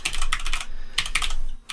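An email address is typed on a computer keyboard in two quick bursts of crisp, close key clicks with a short pause between them.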